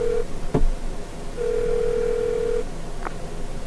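In the Law and Order: Justice is Served video game, a phone is dialed with a click, then a single steady tone for about a second, followed by a faint short beep.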